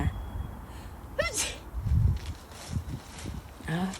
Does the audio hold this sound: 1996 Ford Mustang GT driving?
no